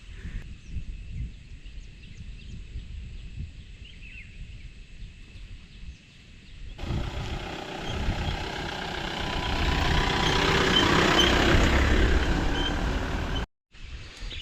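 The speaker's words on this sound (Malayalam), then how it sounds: "ഇതാണ് തന്നെ പാടത്തിലേക്ക് ഇറങ്ങുന്ന ട്രാക്ടർ" A tractor used for paddy field work rumbles steadily at idle, then its engine note rises and grows louder and rougher as it works, with a brief cut near the end; no speech.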